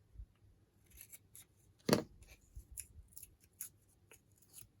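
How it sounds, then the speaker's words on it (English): Scissors snip through thin chipboard while crafting lace bobbins, a series of quiet, crisp cuts and rubbing scrapes with one sharper, louder snip near the middle. "those little pieces of chipboard, when they're at an angle, they tend to catch on the scissors sometimes"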